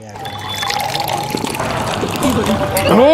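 Liquid pours into a glass as it fills, a steady trickle that rises toward the end, with a voice speaking over part of it.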